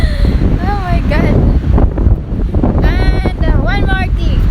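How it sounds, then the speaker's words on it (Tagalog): Strong wind buffets the microphone at Zlatibor in roaring, continuous gusts, while a person talks through it. "Para ako lilipa rin sa sobrang lakas ng hangin."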